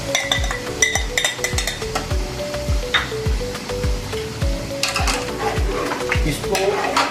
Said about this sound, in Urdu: اس کو ہم نے تھوڑے 2 منٹ کے لیے بھوننا ہے.